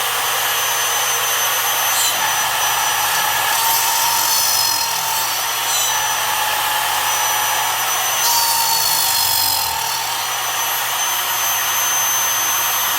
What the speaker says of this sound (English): Just before I choose print, I need to go ahead and turn on the Dremel, like so.